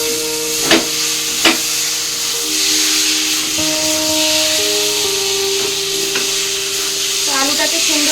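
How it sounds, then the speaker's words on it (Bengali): Boiled potatoes being sautéed in a pan, a continuous sizzle with a few sharp spatula knocks against the pan near the start and soft stirring scrapes throughout. "আলুটাকে সুন্দর করে কষিয়ে নিয়েছি।"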